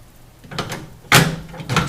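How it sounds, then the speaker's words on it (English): An upper drawer from a Sub-Zero 700TCI refrigerator is lifted and set on top. It makes a few close knocks and plastic-and-metal clunks, with one sharp loud thud near the end and no talking. "So I'll pull out the little slides, pick up the drawer, set it on top,"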